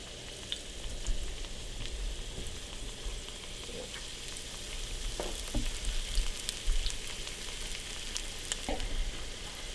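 Egg rolls fry in hot oil, making a continuous crackling sizzle with scattered sharp pops, heard up close and alone.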